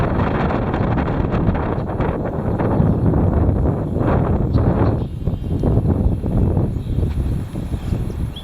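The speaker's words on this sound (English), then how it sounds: "The heavy wind." Heavy wind buffeting outdoors, a loud continuous roar with gusty surges that swells and dips throughout, close and dominant with no voices.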